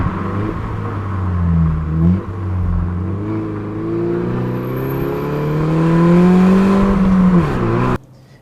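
A 2015 Peugeot RCZ R engine revs loudly and alone, rising in a strong sweep, dipping briefly around two seconds, then climbing again to a high sustained pitch before cutting off abruptly near the end.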